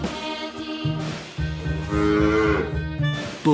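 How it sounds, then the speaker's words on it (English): A bull lets out a deep, drawn-out moo close by, a loud bellow lasting a few seconds over low rumbling, with no voices present. "Bull."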